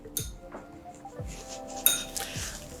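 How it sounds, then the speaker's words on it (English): Spoon stirring alkaline water in a glass, a few quiet ringing clinks of metal against glass spaced unevenly over a soft background, near and without speech. "And in this glass, let me stir it a bit in front of you,"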